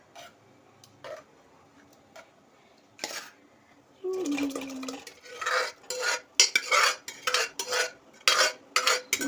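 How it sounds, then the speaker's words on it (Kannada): Cooked rice is tipped into boiled milk in a pot, then a spoon scrapes and clinks repeatedly against the metal in uneven bursts, with a voice talking nearby. "ಇದು ಅನ್ನನ ಇವಾಗ ಈ ಕುದ್ದಿರೋ ಹಾಲೊಳಗಡೆ ಹಾಕ್ತಾ ಇದ್ದಾರೆ"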